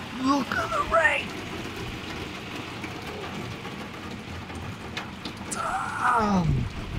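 Heavy rain from an intense storm squall line pours down in a steady, dense roar, with excited voices speaking over it now and then.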